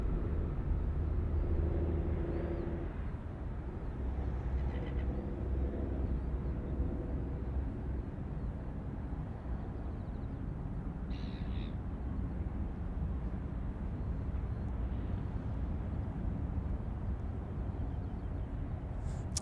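An airliner takes off from runway 34 right at Sydney Airport, heard as a continuous distant low rumble of jet engines that holds steady throughout.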